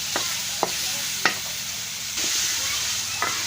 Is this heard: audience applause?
no